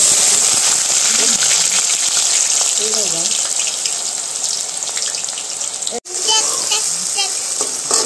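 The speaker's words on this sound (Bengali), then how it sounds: "লুচি ভাজা শেষ, এখন আলু ভাজা।" Potatoes fry in a pan in a village kitchen, making a loud, continuous hiss and crackle from start to finish while voices talk faintly underneath.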